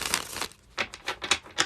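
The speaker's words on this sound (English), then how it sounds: "now we're shuffling for Jude." Tarot cards being shuffled up close, several quick riffling and rustling bursts of crisp card noise with a brief pause between them, no talking.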